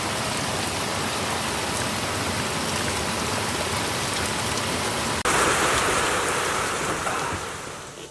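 Rain falls steadily as a dense hiss of drops on surfaces, continuous and fairly loud, with a brief sharp change partway through before the wash of rain swells slightly and then eases toward the end.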